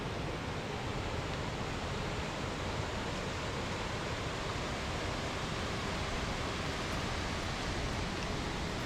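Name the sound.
Seven Veils Falls waterfall flowing into Lake Oesa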